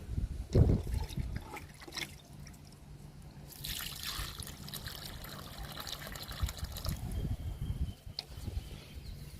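Liquid fertilizer poured onto potted plants, including pink December flowers, giving soft trickling and splashing water sounds with a louder burst near the start and a fuller stream in the middle.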